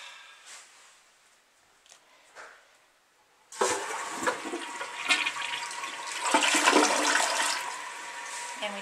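A household toilet flushing, close and loud, with a sudden rushing surge of water that keeps draining for several seconds after a few quiet clicks and handling sounds.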